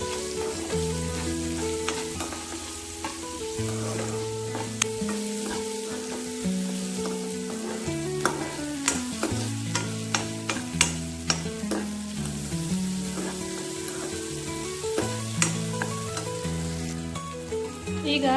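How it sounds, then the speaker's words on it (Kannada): Chopped onion fries in a pan for spinach curry, giving a continuous sizzle with occasional utensil taps, all beneath steady background music. "ಈಗ ಇದಕ್ಕೆ ಕೊಚ್ಕೊಂಡಿರುವಂಥ ನೀರುಳ್ಳಿ 1 ಬೌಲು"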